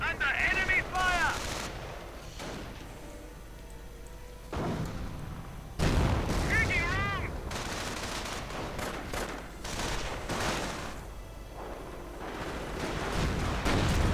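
A gunfire volley during a video game infantry battle in a Company of Heroes-style match, several bursts of rifle and machine gun fire with booming impacts over a busy battlefield din.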